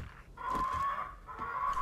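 A chicken in the video game 7 Days to Die clucks in a few close, moderately loud bursts, with a sharp tonal call drawn out over nearly two seconds.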